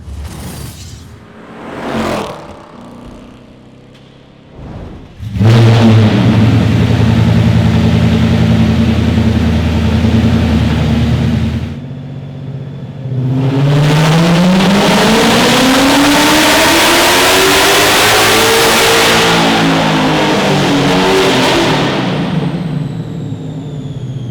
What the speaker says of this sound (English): get it around back, put it on the dyno, and let's see if we can make some more horsepower